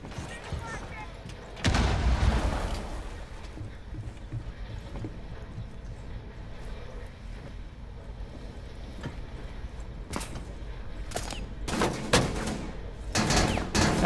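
Gunshots in the tactical shooter game Rainbow Six Siege come as a quick run of sharp, close bursts near the end, after a stretch of low, rumbling ambience and a loud thud early on.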